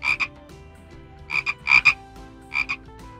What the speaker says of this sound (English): When Oscar put frogs in Granny's slippers